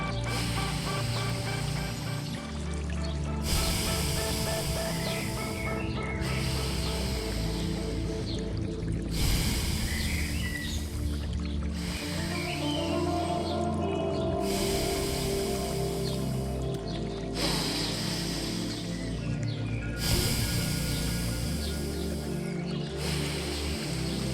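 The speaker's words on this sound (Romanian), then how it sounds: "Inspiră pe stânga, expiră pe dreapta, inspiră pe dreapta, expiră pe stânga." Alternate nostril breathing: slow, airy nasal inhales and exhales alternate in long, even bursts of several seconds each, close up over soft, sustained background music.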